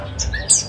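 A caged songbird calls in the morning, a couple of brief sharp chirps and a high squeaky note close by, over faint low background rumble.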